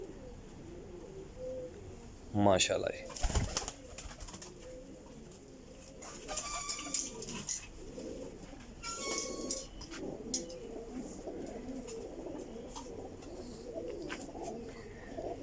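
Young pigeons coo in low, throaty murmurs, repeating throughout, with a couple of brief rustling bursts nearby and a short spoken phrase.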